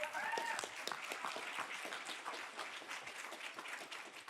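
A business seminar crowd breaks into a round of applause, many hands clapping in a continuous, fairly distant wash that holds steady throughout with no speech over it.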